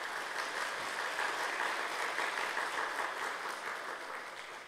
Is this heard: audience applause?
yes